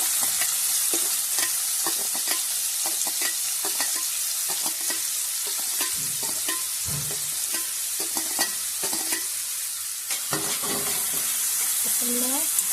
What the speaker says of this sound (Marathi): आपण ना जो आपले कांदो आहे ना तो पण असं फ्राय करून घ्यायचं.